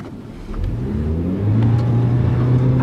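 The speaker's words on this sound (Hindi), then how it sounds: "तो काफ़ी जल्दी गाड़ी 60 पे चली गई। फुल थ्रॉटल दिया" A Toyota Aqua pulls away at full throttle from 0 to 60 on a wet road after rain, its engine whir and road noise climbing steadily in pitch and loudness, rising from a low hum to a strong, sustained drone.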